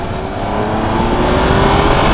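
A 2015 Triumph Tiger Explorer 1200 motorcycle rides across grass, its engine a loud continuous close drone with a faint rising pitch over a couple of seconds.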